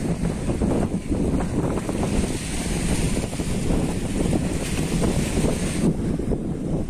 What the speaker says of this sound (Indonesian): Ini kan berisik ya, maaf ya teman-teman, berisik anginnya ya